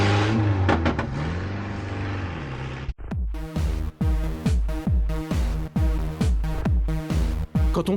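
A tuned Peugeot 106 drives with its engine roaring loudly. A long rev climbs at first, then the engine note surges and drops again and again in rapid rhythmic bursts, like hard gear changes.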